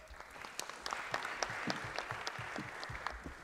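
Applause rises from the audience at a thought-leadership talk on digital democracy, with distinct, fairly faint claps spread through a room.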